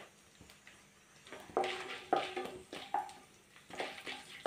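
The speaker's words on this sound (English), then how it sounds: "rice is getting boiled. So give a stir" A spoon stirs boiling rice in a pot for chicken biryani, giving several soft scraping and clinking strokes at uneven intervals over a faint bubbling background.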